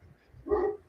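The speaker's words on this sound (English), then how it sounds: "sorry, dog and the mailman, maybe, I'm not sure, in the background" A dog barking somewhere in the background, one short muffled bark that is fairly faint.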